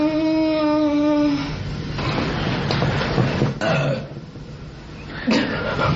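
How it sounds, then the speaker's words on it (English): A man lets out a long, low, throaty burp near the microphone, followed by chatter and laughter. "we're gonna do clips of you burping"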